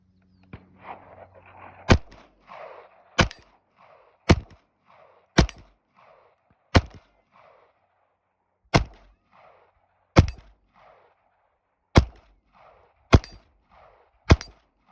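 A KelTec CP33 pistol fires .22 rounds at a shooting range, about eleven sharp, loud cracks spaced one to two seconds apart, each followed by a brief echoing tail.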